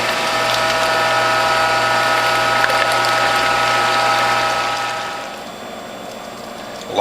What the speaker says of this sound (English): from this hydraulic press, especially on a Whole Health Foundation model.